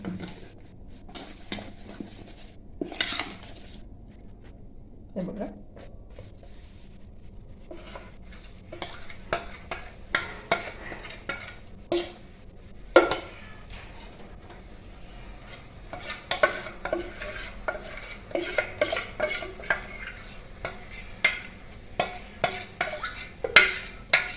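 Soda being stirred into dal-rice dhokla batter in a vessel: intermittent close scraping and clinking of a spoon against the bowl, sparse at first and then in quicker bursts, with no talking.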